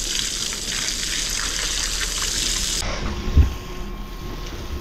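Steady rushing gush of water washing sand out of a household water storage tank, continuous and fairly loud, then the hiss thins abruptly partway through and a low thump follows.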